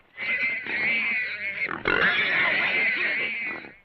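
Loud, sustained hog squealing up close in a TV western, one long shrill cry that breaks briefly and then resumes.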